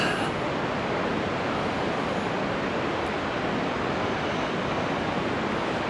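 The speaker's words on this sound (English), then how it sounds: "There is a little waterfall over there." A small waterfall at Fall Creek Falls gives a constant rushing roar of falling water, steady and moderately loud, with no voices.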